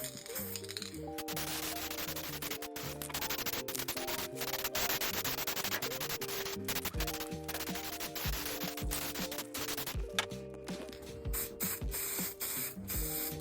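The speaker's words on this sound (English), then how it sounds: "Let's get the frame painted and get the first coat on." Steady hiss of a spray can coating a Mongoose BMX bike frame, continuous and fairly loud, broken by short clicks and rattles throughout with no talking.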